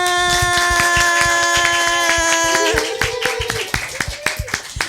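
An audience claps along in a quick steady rhythm over a sustained tonal musical backing, loud and close, with the music dropping away near the end while the clapping continues.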